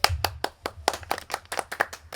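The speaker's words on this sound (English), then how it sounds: "The audience is clapping." Sharp, separate hand claps ring out at a regular beat, fairly close and moderately quiet, sounding like a few people clapping at a fishing house gathering rather than a full crowd.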